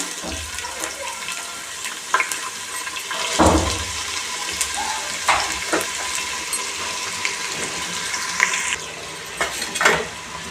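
Onions go into hot ghee with bay leaf and cardamom for ghee rice, producing a continuous sizzle with bursts of spitting and occasional stirring knocks close by.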